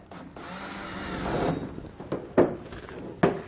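A power drill whirs into wood for a few seconds drilling a pilot hole for a side-door bar lock bracket, followed by several sharp knocks and clunks of the tool being handled nearby.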